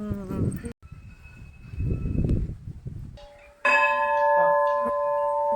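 A temple bell is rung during a visit to a temple: after soft rustling and muffled noise, a loud, bright metallic ring strikes and keeps sustaining its clear tones close by.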